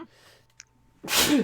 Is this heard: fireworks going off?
no